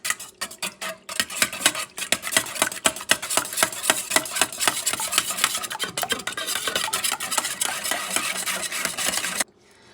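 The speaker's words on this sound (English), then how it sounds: "Make sure you bat the eggs very well." Eggs beaten by hand in a bowl for veal Milanese breading, a fast steady rhythm of whisk or fork strokes rattling and scraping against the bowl, close and continuous, stopping abruptly near the end.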